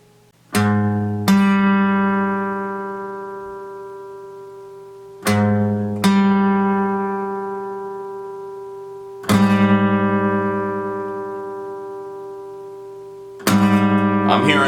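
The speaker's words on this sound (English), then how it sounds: "major seventh." Major seventh intervals for ear training, played four times as a lower note followed by a higher one, each pair ringing clearly and slowly fading before the next, with nothing else heard.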